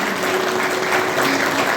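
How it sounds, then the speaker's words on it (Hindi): Loud, dense applause fills a National Voters' Day event hall, a continuous wash of many hands clapping at once with no pauses. "जोरदार तालियां चाहिए आप लोग।"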